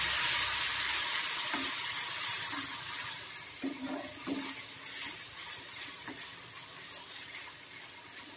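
Vegetables and fenugreek sprouts sautéing in a pan with turmeric, a continuous close sizzle with occasional scrapes and taps of a spatula, no voices.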